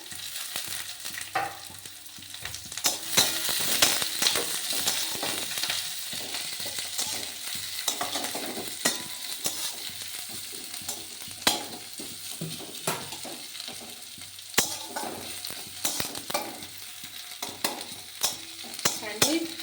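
Chopped onion and green chillies fry in oil in a home kitchen, a continuous close sizzle broken by frequent ladle scrapes and clatters against the pan.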